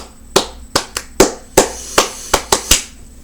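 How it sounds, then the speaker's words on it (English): Students in a school classroom clap for a teacher walking into the room, a sparse run of about ten separate sharp handclaps at uneven spacing, close and fairly loud with no talking. "whenever a teacher came in the room, we clap for them"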